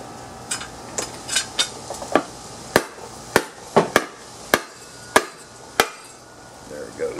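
Sharp metallic strikes from hammering on a lawn mower engine ring out one after another at an uneven pace, loud and close, with a faint hum in the background.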